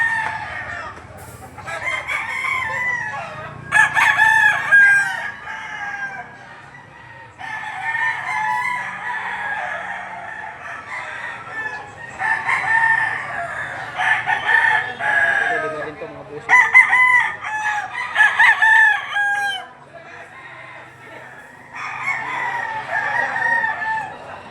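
Black Butcher chickens at a farm in Lipa City, Batangas crow repeatedly and cluck in steady bursts, fairly close and loud, with occasional faint talk in the background.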